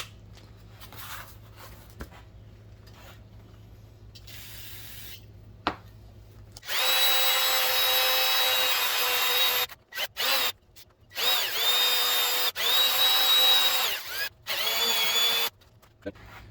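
A power drill spins a green abrasive pad against a cylinder head from a Sleeper S10 engine rebuild, a steady high whine in several bursts separated by short pauses, loud and close with no talk.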